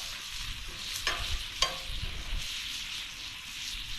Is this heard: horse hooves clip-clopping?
no